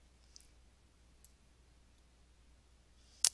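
A single sharp mouse click on a website tab near the end, alone against a very faint background hum, with a couple of softer ticks earlier.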